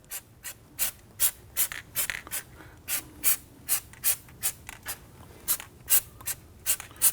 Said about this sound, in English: We're going to choose to use our spray.